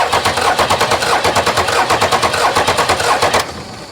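A 1993 Dodge Ram Cummins diesel, abandoned for 18 years, cranks over on its starter in a steady rapid chugging rhythm, loud and close, with no talk, before the cranking cuts off near the end.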